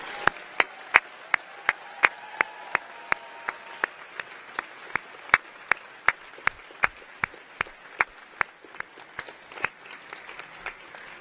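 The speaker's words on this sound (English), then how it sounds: "please join with me a big round of applause for mums and dads, family and friends who are with you today" Steady, evenly spaced sharp claps from one nearby clapper stand out over a faint wash of audience applause at a university graduation ceremony, continuing for about eleven seconds.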